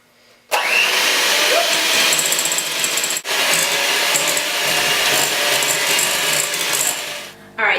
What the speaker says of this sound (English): get my mixer